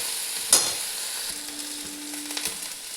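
Ginger-garlic paste frying with browned onions in a pan for a meat curry, a steady soft sizzle throughout with a brief clatter near the start and faint stirring scrapes.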